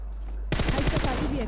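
Rapid gunfire bursts from PUBG Mobile, a quick volley of shots that starts abruptly and keeps crackling loudly through the moment.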